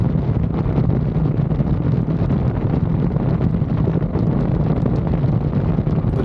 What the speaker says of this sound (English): Definitely getting a lot windier out here.